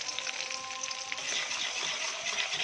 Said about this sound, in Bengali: মাছ ভাজা তুলে নেওয়ার তেলের মধ্যে পেঁয়াজ কুচি দিয়ে দিচ্ছি।